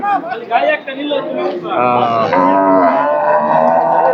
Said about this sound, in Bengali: আজকের বাজারে বড় বড় গরু রয়েছে